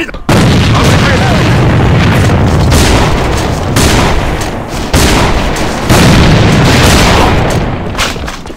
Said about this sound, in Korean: 수류탄이다!